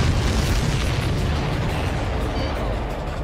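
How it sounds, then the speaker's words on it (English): A supply ship exploding in the video game Ace Combat 7, heard as a loud, sustained, broadband rumbling blast that fills the whole stretch and fades slightly toward the end. "Did you see that explosion? Looks like that's one of them down."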